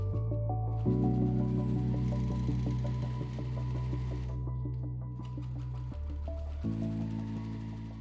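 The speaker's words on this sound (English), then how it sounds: "I'm gonna keep using that walking foot when I attach my borders" A sewing machine with a walking foot stitches quilt borders at a quarter-inch seam, running as a close, steady mechanical hum that shifts speed and pitch a few times.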